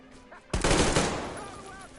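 Automatic gunfire bursts out suddenly in a Metro video game firefight, a loud close crack followed by a dense rattling volley that decays over about a second and a half, with faint voices shouting before it.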